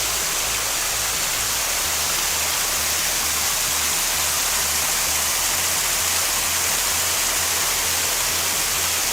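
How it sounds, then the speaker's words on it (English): Water pours from a 12-foot-long pergola rain curtain in a constant, dense hiss, close and even from start to finish with no talking. "Like this rain curtain, 12 feet long."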